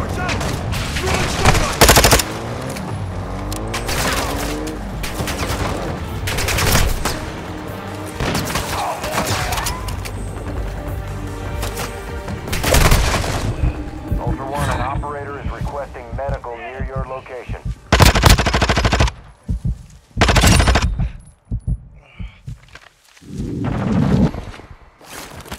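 Gunfire in Call of Duty Warzone DMZ, with repeated loud bursts of automatic fire and single shots coming in clusters, some close and some farther off, mixed with players talking over radio.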